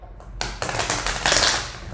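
Tarot cards being shuffled by hand, a dense run of crisp riffling and flicking that builds in bursts over two seconds, close and fairly loud with no talk over it.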